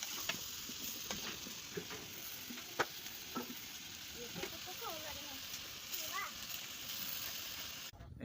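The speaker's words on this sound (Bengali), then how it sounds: "এটাকে সুন্দর করে টালতে হবে, তেলের ভিতরে টালতে হবে।" Chicken pieces with biryani and chicken spices being stirred and fried in oil in a pot, giving a quiet, steady sizzle broken by regular spoon scrapes and ticks, with a voice speaking faintly underneath.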